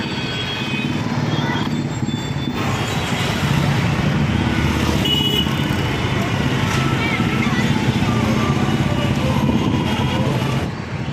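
Heavy road traffic on the way to a theatre: a continuous loud wash of car and motorbike engines, with passing vehicles rising and falling nearby.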